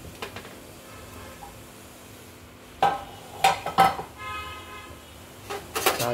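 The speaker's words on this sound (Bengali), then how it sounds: "তো এবারে খুলে দিচ্ছি ঢাকনাটা" The lid of a Prestige Deluxe steel pressure cooker of mixed dal being opened: a few close metallic clanks and scrapes over a quiet, low hum, following a near-silent pause.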